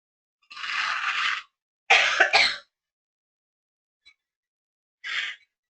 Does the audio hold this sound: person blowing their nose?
yes